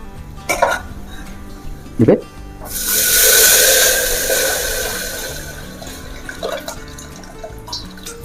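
Hot tempering hits a pot of dalma made with mung dal and drumstick leaves (sajana saga). A few clunks come first, then a loud hissing sizzle bursts up and slowly fades, with a voice speaking around it.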